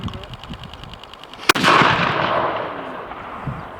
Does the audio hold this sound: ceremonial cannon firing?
yes